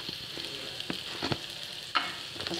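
Chili powder and spices fry in a pan for senagapappu pulusu while being stirred, giving a close sizzle with scraping spoon strokes and a sharp clack near the end.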